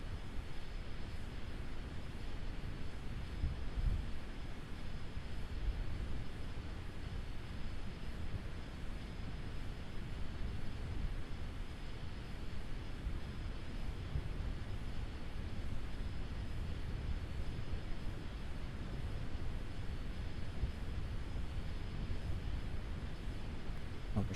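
Aircraft engine of a plane coming in to land in Kerbal Space Program, a steady droning roar with a thin high whine held evenly throughout, moderately loud and alone.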